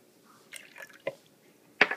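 Lemon juice added to a salad dressing, a few wet drips and small squishy splashes spaced apart, close and quiet, with no talk over them.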